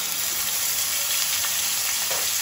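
Onion, garlic and ginger sizzling and frying in hot oil, a dense, steady, close crackle that fills the whole stretch with no talk.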